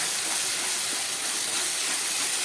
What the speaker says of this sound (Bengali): এই পেস্টটাকে আমি আবার দিয়ে ভালো করে ভাজবো।